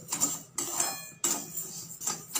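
A spoon scrapes and stirs thickening milk in a pan while misti doi is being made, giving a few close, bright strokes in short bursts with brief pauses between them.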